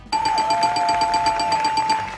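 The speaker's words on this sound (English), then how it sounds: "Let me press the buzzer now to speak to..." An electronic buzzer is pressed during a livestream, giving one sustained, bright, steady tone that holds for about two seconds, loud and close with no talk over it.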